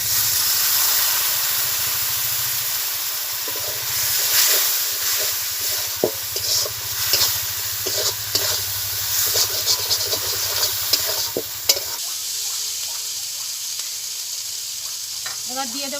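Water added to tomatoes in a hot cooking pan for a steamed egg dish, producing a loud burst of sizzling and hissing steam with scraping stirs that settles into softer bubbling, a voice briefly audible near the end.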